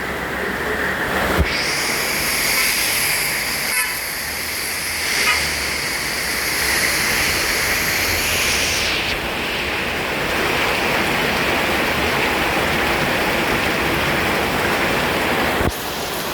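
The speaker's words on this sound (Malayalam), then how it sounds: "എന്നാ വലിയ മഴയാണ്." Heavy rain pouring down in a steady, dense roar of broadband noise that stays loud throughout, with a high whine over the first half.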